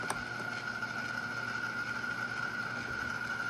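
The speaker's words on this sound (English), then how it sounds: "this should keep pumping and filling up, since I don't have the float valve in there" An Opal ice maker pump runs while filling with water with its float valve removed, giving a steady, unbroken electric hum with a faint whine, close to the microphone and continuous throughout.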